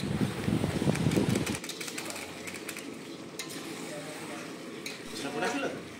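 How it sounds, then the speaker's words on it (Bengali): Chicken pieces coated in chicken masala are stirred and fried in a pan for a spicy chicken kosha: a heavier scraping rumble for the first second and a half, then a steady close hiss of sizzling. "ভালো করে কষাতে হবে চিকেনটাকে"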